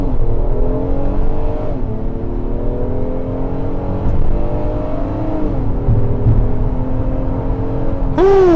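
A 2025 Acura MDX Tech pulls hard off the line, its engine note climbing steadily through rising harmonics with a brief shift dip near two seconds, then another upshift, loud and continuous from inside the cabin with no talking.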